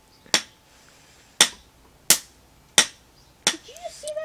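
Five sharp, loud pops from small fireworks go off outdoors about once every second or so, each decaying quickly. A voice is heard after the last one.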